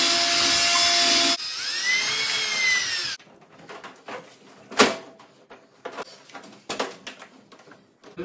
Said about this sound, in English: So we're gonna go ahead and drill those out.